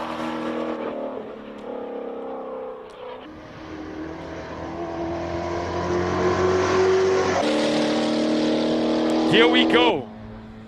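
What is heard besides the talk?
turbocharged Birkin car racing at hill climb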